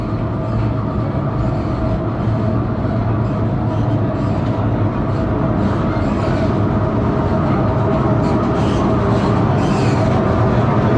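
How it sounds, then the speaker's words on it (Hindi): A Pakistan Railways train engine arriving at Khewra station, a loud, continuous rumble and rattle of the locomotive and wagons close by, steady throughout with no pauses. "इंजन आया है, इंजन रुका है।"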